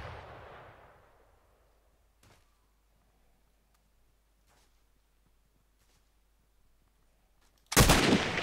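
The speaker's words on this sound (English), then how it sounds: "Trying a long shot over here." A single long-range sniper rifle shot in a shooting video game, a sharp loud broadband crack near the end that follows faint decaying echoes and a few quiet distant pops.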